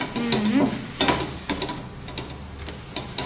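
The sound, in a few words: water and oil sizzling as hot tawa is cooled with cloth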